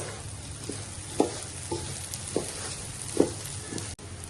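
Polao rice toasting in a pan with three cardamom pods and two cinnamon sticks, a few soft scraping stirs at irregular intervals over a low steady sizzle, close and fairly quiet.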